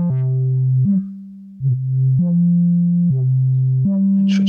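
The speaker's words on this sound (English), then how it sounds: "This is the Altstaden oscillator, filtered by the EFI low-pass filter, which goes into the mimophone" A raw buzzy Altstaden synthesizer oscillator tone through an EFI low-pass filter, dark and muffled, steps between a few sustained notes in a slow simple melody, loud and alone.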